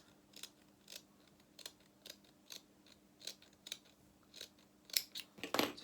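Scissors snip extra fabric off a doll's apron dress in a quick series of about a dozen sharp, close cuts, with the last few louder and faster.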